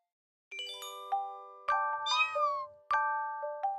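A cartoon cat in a children's animated series gives a few sharp, sing-song meows, each ringing out with a chime-like tone, clear and alone with no talking.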